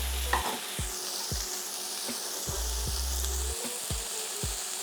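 Chicken and vegetables stir-frying in a hot pan, a loud continuous sizzle with regular sharp clacks and scrapes of a utensil tossing the food, close and without speech.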